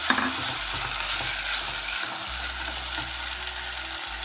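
Boneless chicken frying in a pan gives off a continuous close sizzle with a steady crackling hiss and a low hum underneath, no voices.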